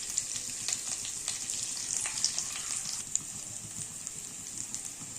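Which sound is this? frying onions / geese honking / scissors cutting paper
frying onions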